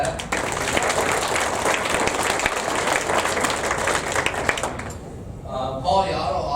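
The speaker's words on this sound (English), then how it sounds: "So I think we should give him an applause for that." Audience applause at a Lions Club 75th anniversary event, a thick, loud wash of many hands clapping for several seconds before it fades out abruptly, followed by a brief murmur of voices.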